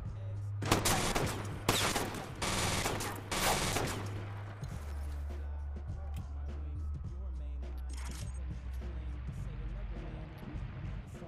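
Gunfire in the Watch Dogs video game rings out as several sharp, loud shot bursts early on, followed by scattered lighter pops and clatter under a low droning hum, with occasional voices.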